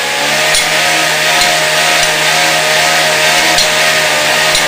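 Dual permanent magnet wind turbine rotor spun at about 120 RPM by a loud, steady motorized drive, giving a constant whining, buzzing drone with faint rhythmic ticks, close and continuous with no talking.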